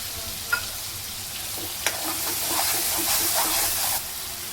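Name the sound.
peas frying in spiced oil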